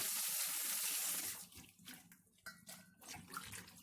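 Vegetables being washed in water for Ilocano pinakbet: a steady rush of running water at first, then quieter splashing, sloshing and handling sounds close by.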